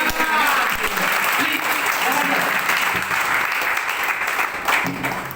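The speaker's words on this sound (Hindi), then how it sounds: "स्वागत के लिए ताली चाहूंगा इनसे" An audience applauds to welcome a guest being handed a bouquet at a company CEO's talk, steady sustained clapping filling the room throughout, with a voice briefly heard over it.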